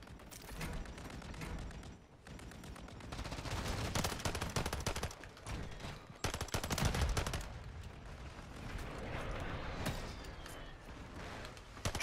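Gunfire from a Call of Duty match on the Rundown map, with a player shooting a pistol among other guns: near-constant rapid shots, loud and dense, broken only by a couple of brief pauses.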